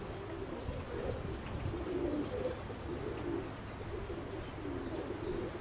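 Pigeons coo repeatedly outdoors in gusty wind, soft rounded calls recurring in a steady rhythm over a constant rush of wind, with a few faint higher chirps and no talking.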